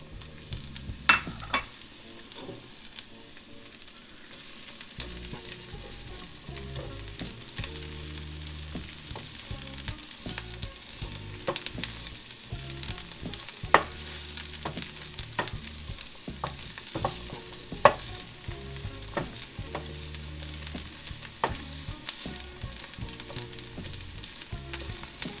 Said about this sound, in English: we're going to take the vegetables and we're going to just do a bit of a saute.